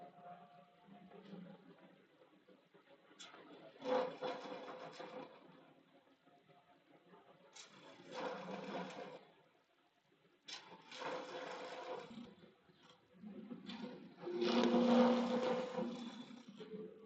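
A lathe turning a resin piece worked with a small round nose scraper, giving faint, intermittent scraping bursts that rise and fade every few seconds over a low steady machine hum.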